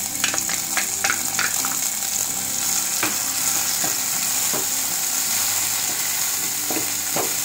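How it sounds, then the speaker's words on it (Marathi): Onion hits hot oil in a non-stick pan and fries with a loud, steady sizzle, punctuated by intermittent spatula taps and stirring scrapes. "मी आता कांदा फोडणीला घालते"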